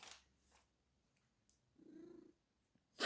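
A domestic cat purrs softly and close by for about a second in a quiet room, framed by faint rustles and a brief sharper noise at the very end.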